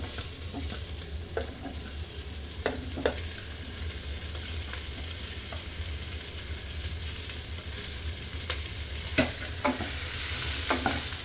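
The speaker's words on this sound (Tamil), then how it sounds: "அதுக்கப்புறம் நம்ம வெட்டி வச்சிருக்க வெங்காயத்தை போடணும்" Chopped onions stir-fried in a pan with green chilli, ginger, garlic, cinnamon, cloves and curry leaves make a constant hiss of frying, with occasional light scrapes and taps of the stirring spoon, close and without speech.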